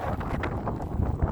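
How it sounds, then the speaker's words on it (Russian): Strong wind on a riverside embankment buffets the microphone in low gusty rumbles, loud and close over a brief moment. "Ой, ветер."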